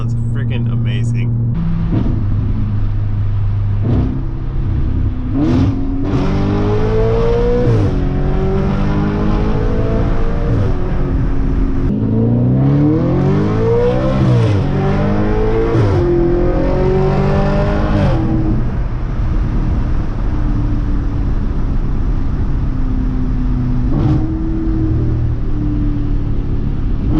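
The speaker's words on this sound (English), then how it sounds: "I really want you guys to hear how this car sounds" Audi RS5 engine revving through pulls and downshifts, loud close-up rises and falls in pitch with blips between gears, over steady road rumble; a person talks briefly at the start.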